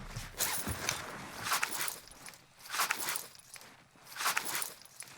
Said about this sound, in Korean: 내 밑에 발소리.